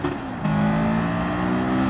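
A Honda S2000's engine drops a gear in Gran Turismo 7 on the Grand Valley Highway track, its steady buzzing note stepping abruptly up in pitch as the revs climb, loud and close with no talking.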